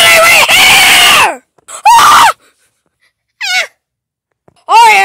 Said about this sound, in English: let me just scream louder